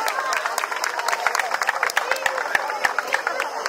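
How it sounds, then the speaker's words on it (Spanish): Applause from a children's birthday party crowd for a girl who won, a dense patter of claps with chatter and voices mixed throughout, moderately loud and close. "fuerte el aplauso para la niña que ganó"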